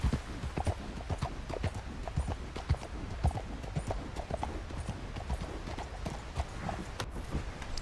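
Horse hooves clip-clop steadily in a video game, a close, even rhythm of many soft strikes on the ground with faint background ambience and no talk.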